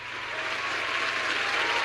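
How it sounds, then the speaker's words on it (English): Steady applause from a crowd, a continuous wash of clapping at even loudness, slightly building toward the end. "Give them a round of applause."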